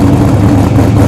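A Holden VX Clubsport's engine runs loud and close in a steady, rumbling drone, with heavy low-end throb and no talking over it.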